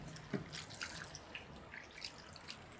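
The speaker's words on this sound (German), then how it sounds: "Jetzt begieße ich das alles einfach mit ein bisschen Wasser," Water is poured over a duck and vegetables in a roasting pan. It makes a faint trickle, a few soft splashes and drips in a quiet kitchen.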